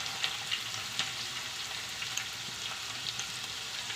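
Onion and beans frying in a pan for restaurant-style chicken fried rice, giving a steady, fairly quiet sizzle broken by a few light clicks of stirring and tossing.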